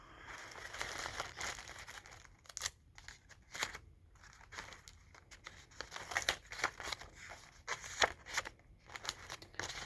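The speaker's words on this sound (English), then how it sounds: "And I'm going to tape those." Plastic bags taped on as lungs behind a homemade body model: quiet, close crinkling of plastic mixed with bursts of tape being pulled and torn, in an irregular stop-start rhythm, with no voices.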